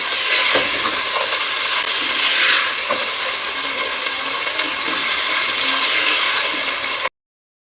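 Mixed vegetables frying with spices in a pan for vegetable rice give off a continuous close sizzle with occasional stirring clatters, alone without talk.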